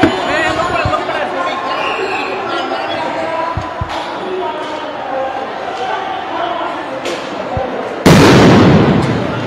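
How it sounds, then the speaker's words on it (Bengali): A police sound grenade bursts during a street clash with workers, a sudden loud blast near the end that rises above continuous crowd noise, shouting and a reporter talking. "এই মুহূর্তে আমরা শুনতে পেলাম যে সাউন্ড গ্রেনেড কিন্তু পুলিশ ছুঁড়েছে"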